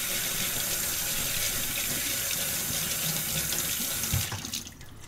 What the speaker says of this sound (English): run some water through to wash off any dust that might be on the seed